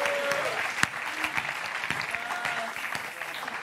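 A French TV quiz show's studio audience applauds a contestant, brisk, close clapping with a few sharp individual claps standing out and a brief voice at the start.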